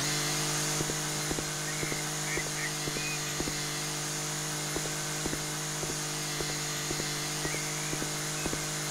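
Steady motor drone of a lawnmower running in the home renovation video game House Flipper, a constant engine hum with regular faint clicks throughout, alone with no talk.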